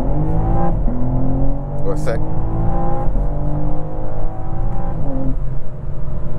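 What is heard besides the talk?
BMW M4 xDrive Competition engine revving under acceleration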